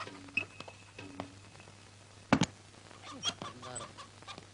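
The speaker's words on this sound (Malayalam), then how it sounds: "ഓ, കോഴിയാണല്ലേ?" A chicken clucks close by in short, irregular bursts, with one sharper squawk partway through over a faint steady background hum.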